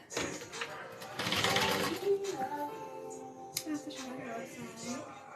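A sewing machine stitches a Lola bag at a long stitch length in a short, busy whirring burst, quieter near the end, while someone talks alongside.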